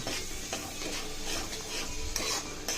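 A spoon scrapes and stirs through thick tomato chutney in a pan, rhythmic and close, over a faint sizzle, with no voices.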